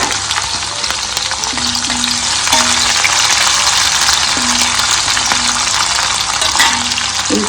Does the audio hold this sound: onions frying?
yes